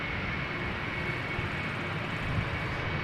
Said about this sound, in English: we also have that angry looking A350 coming this way